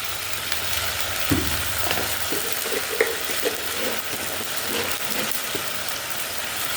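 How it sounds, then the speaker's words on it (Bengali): Spices for an egg curry fry in a hot pan while being stirred, with a steady close sizzle and soft scraping strokes of the spoon, and no voices. "এবার এটা কষাতে থাকি।"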